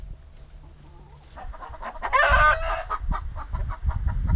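Chickens in a backyard coop cluck busily and a rooster crows partway through, nearby and fairly loud, with a low rumbling background.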